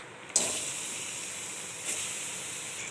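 Three medium-sized cut onions fry in two teaspoons of oil in a kadai, making a steady, close sizzling hiss that swells twice as more goes into the pan, with no talking.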